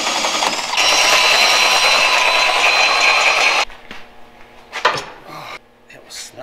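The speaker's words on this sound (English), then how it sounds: "File that washer down a little." A washer is filed down by hand during Jeep work, giving a harsh, continuous rasping scrape for about three seconds, then quieter clicks and handling noises with brief voices.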